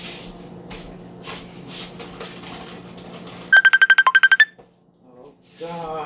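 A phone ringtone plays as a quick burst of rapid, bright electronic pulses lasting about a second. A voice is heard before it, and speech starts again after a short pause.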